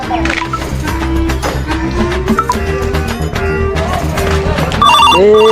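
A telephone rings repeatedly in a loud busy scene with music and voices, the ringing tones steady and insistent.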